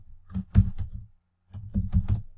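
Keys clack on a computer keyboard while a name is typed into a business letter: a quick burst of keystrokes, a brief pause, then another short run, close and clear with no talking.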